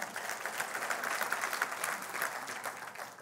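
Church congregation applauding, a dense steady wash of clapping hands that carries on throughout, no voices above it.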